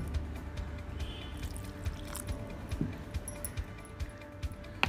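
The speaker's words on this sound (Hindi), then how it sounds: "अब हम इसमें थोड़ा थोड़ा पानी ऐड करेंगे।" Water trickles little by little into idli batter being mixed, faint drips and small wet squishes scattered over a quiet kitchen background, soft and close with no talking.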